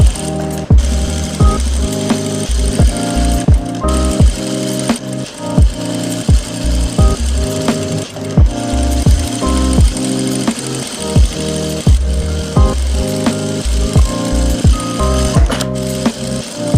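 A sewing machine stitches a folded hem on salwar fabric, a loud continuous rattling whir with a fast, regular mechanical tick running throughout.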